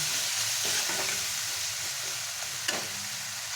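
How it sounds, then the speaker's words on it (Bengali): A masala paste with water is stir-fried in a pan for a kokila fish curry, with a constant loud sizzle and soft scraping strokes of a spatula moving it around. "যতক্ষণ না এর কাঁচা গন্ধ দেয় আমি ভালো করে কষে নেব"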